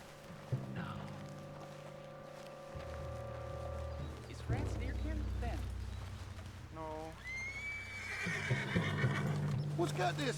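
A horse in Red Dead Redemption 2 lets out a whinny amid hoof clip-clops and game ambience, with further horse sounds and someone talking in between.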